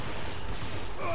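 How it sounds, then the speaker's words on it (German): Gunfire in the video game Max Payne 3 forms a dense, continuous burst of shots mixed into a busy game soundscape, loud and unbroken for about a second. "Schön in den Rücken geschossen, dann passt es mal."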